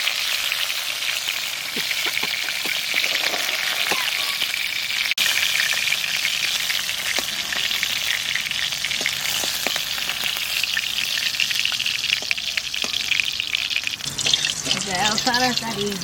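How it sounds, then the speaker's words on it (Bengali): Katla fish fries lightly in oil with a continuous loud sizzle, joined by occasional clinks, water splashes and a running tap toward the end, with no speech. "হালকা ভাজা দিলাম।"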